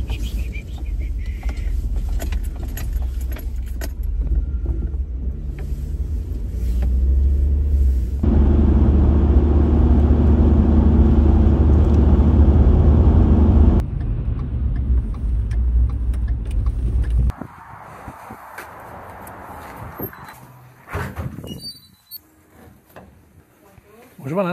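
Truck driving on the road with a steady low engine rumble and road noise throughout, a louder, heavier stretch in the middle, then quieter with scattered clatter near the end; people talk at times.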